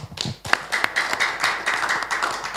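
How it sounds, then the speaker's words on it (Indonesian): A small audience at a seminar on Pancasila and youth claps for a speaker, a short burst of scattered, fairly close handclaps. "Beri aplaus untuk Bung Sam"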